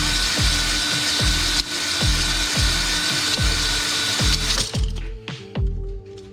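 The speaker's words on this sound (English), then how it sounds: "I'm gonna hone it out right now" An engine cylinder being honed by hand-held tool, producing a steady rhythmic series of scraping, grinding strokes about every half second, close and fairly loud, then stopping near the end.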